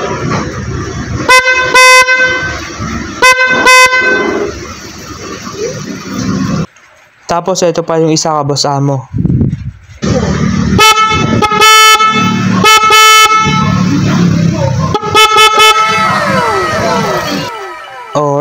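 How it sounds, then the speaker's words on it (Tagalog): GSE dual loud horn on a motorcycle, blasting repeated short and longer honks that mix low and high tones, very loud and close, with someone talking between the blasts. "so yun po yung tunog ng ating GSE loud horn"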